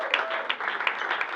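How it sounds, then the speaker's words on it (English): An audience claps for speaker Mike Moore, a steady bed of dense applause with brighter individual claps popping out, continuous through the short stretch. "give him a loud, loud hand"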